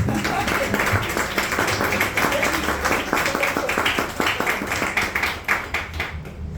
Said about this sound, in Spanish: La verdad que merece un aplauso.